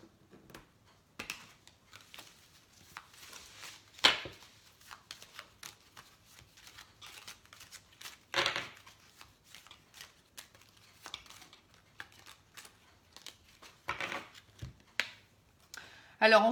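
Oracle cards are shuffled and drawn close up in scattered soft riffles and snaps, with a sharper flick now and then in a quiet room. A voice talks over it at times.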